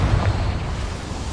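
Confringo fire spell blast in Hogwarts Legacy, set in goblin mines: a loud, rumbling explosion with heavy low-end roar that decays over a second, no talking.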